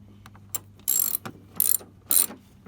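Ratchet tightening a bolt on the air filter cover of a 1996–2007 Ford Focus during a motor mount replacement, several quick bursts of crisp clicking close by, separated by short pauses.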